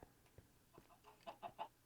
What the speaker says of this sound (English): Did I have a chicken that came down here?